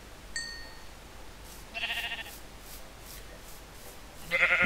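Minecraft sheep let out a few short, separate bleats, one near the middle and a louder one at the end, between quiet game ambience.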